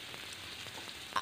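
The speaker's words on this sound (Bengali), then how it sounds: "ফোড়নটা একটু ভাজা ভাজা হয়ে গেলে" Five-spice and dried chili frying in hot oil in a pan, a faint continuous sizzle with a small crackle near the end, close by and quiet.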